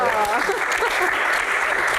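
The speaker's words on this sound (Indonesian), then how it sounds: "tepuk tangan untuk Mbak Tejo" Audience applause at a Q&A session with Indonesia's communications minister, a continuous dense clapping, with a voice speaking over it.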